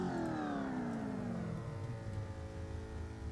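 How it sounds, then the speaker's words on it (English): Race car engines revving together on the starting grid of an All-Star Shootout heat, a loud, dense engine roar with pitch sliding downward then holding steady, continuous throughout with no talk. "The revs are rising."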